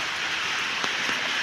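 Rain pattering on a house roof during a wet day makes a dense, steady hiss of close drops, with a couple of slightly louder individual taps and no one speaking.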